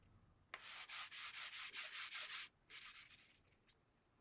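Coarse Dollar Tree sandpaper rubs briskly over a secondhand wooden jewelry box being distressed, with quick rhythmic back-and-forth strokes, a short pause, then several shorter, lighter passes, close and clear with no talking.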